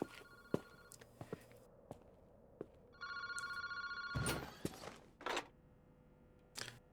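A telephone rings inside a phone booth at Kanishibori Park in the PARANORMASIGHT video game, a couple of bright, sustained electronic rings over faint clicks and footsteps, with no one talking.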